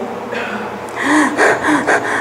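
A person's voice imitates short, muffled, nervous breathing, with a few quick, close gasps and snorting breaths in a tight, uneven rhythm.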